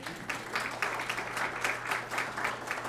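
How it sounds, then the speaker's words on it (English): An audience applauds an honoree at a school district retirement ceremony, giving a steady, fairly faint round of clapping over a low hum in a large room. "Applause, please"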